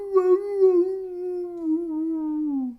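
A person imitates a dog's howl, giving one long, smooth, falling howl that holds steady and then fades, heard alone and clear.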